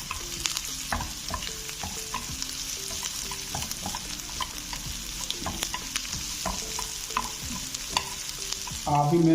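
Chopped green chilies and spinach frying and being stirred in a pan for aloo palak, a steady sizzle with repeated scraping stir strokes throughout, close and moderately loud with no talking.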